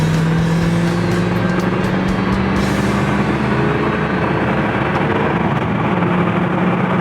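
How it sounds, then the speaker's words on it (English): A Ford Mustang GT coupe pulling hard out of a corner in third gear, its engine a loud, steady, rising drone with strong low rumble heard from inside the car, no talking. "We'll just dig out of that corner in third gear."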